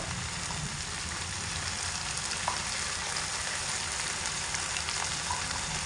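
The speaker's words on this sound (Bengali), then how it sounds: "এবার এই সমস্ত মশলা একসঙ্গে খুব ভালো করে কষিয়ে নেব" Cumin and chili paste, salt and turmeric fry together in a pan with an even, dense crackling sizzle and faint occasional stirring taps, steady and close with no voices.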